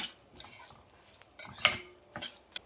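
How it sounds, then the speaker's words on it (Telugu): A spoon stirring white sesame seeds and spices roasting dry in a pan while making tamarind-leaf chutney: faint scraping and light metallic clinks come in short, irregular bursts, close but quiet. "ఇట్లన్నిటిని కూడా దోరగా వేయించుకోవాలి."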